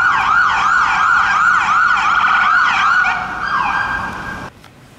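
A loud ambulance siren wails in a repeating rising-and-falling pattern, then cuts off abruptly, leaving a quiet background.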